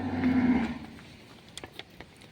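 A cow at a gaushala shelter for old, sick and abandoned cattle, one with an injured leg, lets out a single low, fairly close moo at the start, followed by faint scattered clicks and shuffling.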